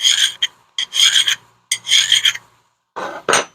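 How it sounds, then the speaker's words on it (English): A hand file rasps across metal in long strokes, about five close, gritty scraping passes separated by short pauses. "you want to keep the file as flat as possible. Long strokes."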